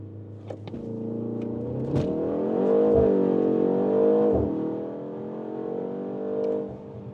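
A BMW M135 with 300 horsepower launches with launch control in normal D mode, its engine note rising into a strong, sustained rev, held and then easing, heard from inside the car with a few interior clicks.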